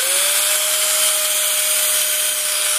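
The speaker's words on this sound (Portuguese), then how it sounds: "Mesmo desligado da tomada, a furadeira ainda funciona ainda, por um bom tempo ainda" An electric drill unplugged from the mains keeps spinning on charge stored in power-supply capacitors, giving a steady high motor whine and broadband rush that holds throughout without talk.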